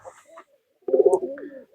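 A local red-and-white Golla pigeon gives a deep, throaty coo up close, a short rolling burst with a few fainter rustles before it.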